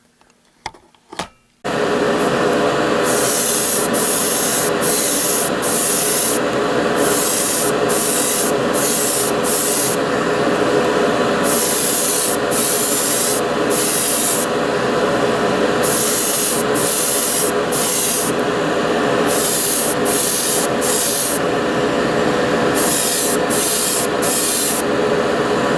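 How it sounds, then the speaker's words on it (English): A continuous aerosol spray of matte finish clear coat hisses steadily onto a model Porsche car body for over twenty seconds, broken by rapid on-off gaps in the hiss as the nozzle is pressed and released. "got a nice light coat of matte finish clear coat on it"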